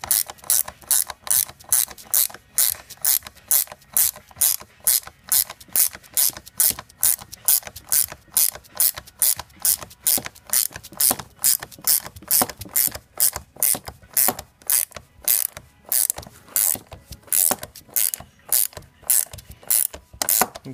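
A ratchet loosens a bolt on a Volkswagen Transporter 4 steering rack, giving a long, steady series of sharp metallic clicks in quick, regular strokes, close and alone.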